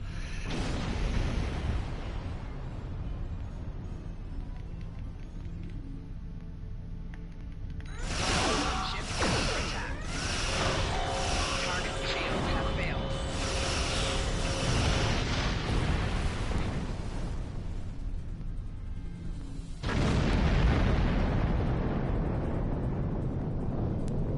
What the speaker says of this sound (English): ancient quantum torpedoes